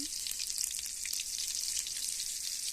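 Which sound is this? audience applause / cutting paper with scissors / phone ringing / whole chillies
whole chillies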